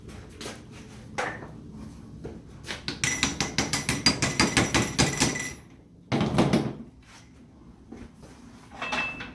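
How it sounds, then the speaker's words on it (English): Sharp metallic hammer blows in a quick, steady series of about a dozen strikes, with a few scattered knocks and clatter before and after, while assembling a Honda CR-V AWD transmission with a gear set. "Where's my hammer? Oh, here it is."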